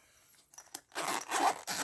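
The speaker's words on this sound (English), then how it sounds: "Zipper." A few short, scratchy rasps as the zipper on a DEMKO AD20.5 case is pulled open in quick bursts, close up, in an otherwise quiet room.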